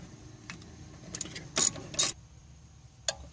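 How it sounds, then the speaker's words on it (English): A brake caliper bolt is worked loose on a 2005 Chevrolet Uplander during rear wheel bearing work, a few sharp metallic clicks and two short ratcheting bursts over quiet shop background. "1 bolt is out, so I'm taking the 2nd one out."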